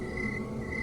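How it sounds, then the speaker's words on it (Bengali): Crickets chirp in a thin, steady, continuous trill on a quiet evening hill road in Kalimpong in the Himalayas, with faint ambient noise underneath. "মাঝে মাঝে শুধু শোনা যায় ঝিঝি পোকার ডাক"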